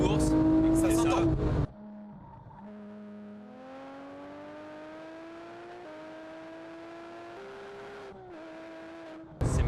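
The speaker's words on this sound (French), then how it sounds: "la GT3, ultra sportivité, il faut le dire, hein, c'est une voiture de course. Ça s'entend." A Porsche 997 GT3 road-legal race car drives past and then accelerates, its engine note rising steadily and cleanly through the gears. Loud voices and car noise are heard at the start and again at the end.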